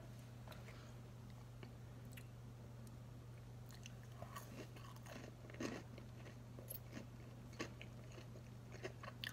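Close, crisp crunching from chewing flour-coated fried tofu, a few sharp bites over a steady low hum, with no talking.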